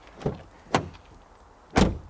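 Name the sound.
Skoda Scala car door opening and closing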